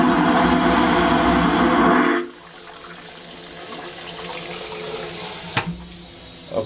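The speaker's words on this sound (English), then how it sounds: "If you've never heard a toilet flush on a cruise ship, here we go." Cruise ship toilet in a Norwegian Cruise Line balcony cabin flushing: a loud, abrupt vacuum rush for about two seconds, then a quieter tail of draining hiss, followed by a few small clicks.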